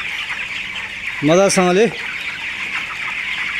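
Broiler chickens on a poultry farm, one bird giving a short, loud, wavering cluck-call close by over a constant background din of the flock, with a brief spoken word alongside.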